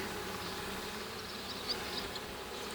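Honey bees hum around an Alpine hive, a continuous soft, dense buzz at a steady level, some distance off, with no voices.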